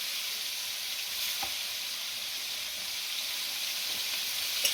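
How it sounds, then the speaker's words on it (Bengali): Prawns fry in oil in a wok with a steady, close hiss of sizzling, punctuated by a few faint clicks and scrapes as they are moved about. "চিংড়ি মাছগুলো ভালো করে ভেজে নিই"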